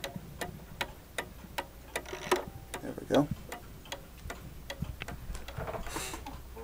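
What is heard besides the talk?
mantel clock ticking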